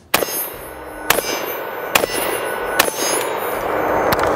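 A Zastava ZPAP85 AK pistol chambered in 5.56 fires five sharp, loud shots at a steady, roughly once-per-second pace, each with a ringing metallic crack and a short echo.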